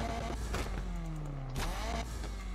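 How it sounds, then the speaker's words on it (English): Car exhaust in the racing game Need for Speed Unbound, with an engine revving up and down. Pitch sweeps fall and rise over a steady low drone at moderate volume, and no one speaks. "Oh, and style, exhaust sound. We gotta change that."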